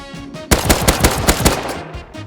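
Rapid bursts of AK rifle fire in a video game, several quick automatic volleys ringing out loud and close before trailing off, with no talk over them.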